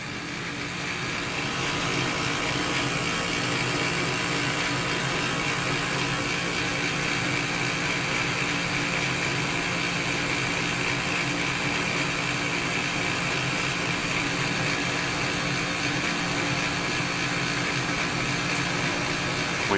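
A gas furnace blower on a Bryant 80% furnace starts and runs with a steady, close broadband whoosh and low hum that holds evenly throughout, with no voices.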